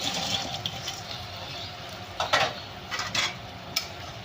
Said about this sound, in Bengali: এটা ফুটে গেছে, ভেজে রাখা বড়াগুলো দিয়ে দিই